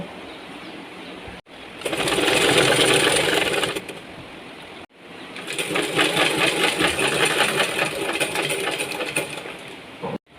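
Sewing machine stitching piping onto the front of a churidar top, running in two steady bursts of fast, even motor whir with a short pause between, close and loud with no talk.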